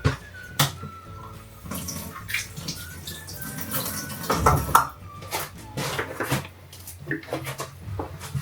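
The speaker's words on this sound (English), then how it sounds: "we just need to add our coconut milk" Coconut milk pours into a butter chicken sauce with butter beans in a home kitchen, a wet splashing pour mixed with clinks of a pot and utensils, with voices talking in between.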